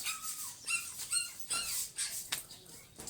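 A dog whimpers and whines in short, high, wavering cries, several in a row with brief gaps, fairly close but quiet, at a house under construction.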